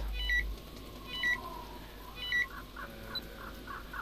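Repeated short electronic beeps of a text message alert in the video game Overclocked: three evenly spaced chirps, then a softer warbling tone sequence, clear and close over a quiet background hum.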